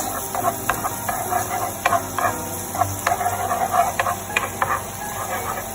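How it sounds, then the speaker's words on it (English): Ingredients for creamy Tuscan buttered salmon are stirred in a hot pan, with repeated scraping strokes and light clacks over a constant sizzling hiss. "we're gonna mix these bad boys up right here. Get that nice and mixed."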